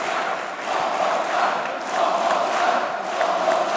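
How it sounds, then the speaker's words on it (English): Arena crowd at a mixed tag team wrestling match, a continuous roar of cheering and shouting that swells and ebbs slightly, loud and sustained with no commentary over it. "The crowd wants more."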